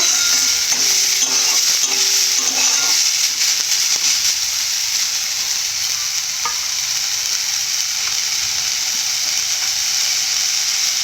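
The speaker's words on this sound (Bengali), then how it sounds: "আদা রসুন শিলা প্রথমে শুকনো কড়াতে ভালো করে ভেজে নেব" Ginger and garlic paste frying in a dry wok hisses as a bright, continuous sizzle, with a few scraping stirs of a utensil early on before settling into an even crackle.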